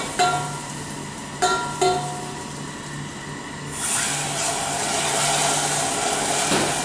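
Cream poured into hot caramel with melted butter, a few sharp clinks of a utensil against the pan at first, then a sudden loud hissing, bubbling surge that keeps seething steadily and close.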